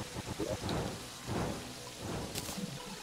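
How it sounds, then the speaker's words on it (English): Rain and thunder roll through the video game Terraria: a steady, soft hiss of rainfall with low, rumbling thunder swells, quiet and distant throughout. "Well, it's also raining."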